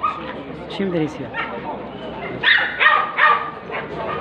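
Dogs at an open-air dog market in El Harrach, Algeria, giving short yips and barks, fairly close, with people talking over and between them.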